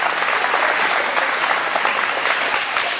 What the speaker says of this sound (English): let's give them a round of applause for being here to help us out